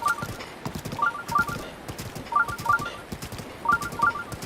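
Horse hooves clip-clop in steady repeated bursts in The Legend of Zelda: Breath of the Wild, with brief whinny-like tonal calls recurring alongside the trotting, fairly close and alone without talk.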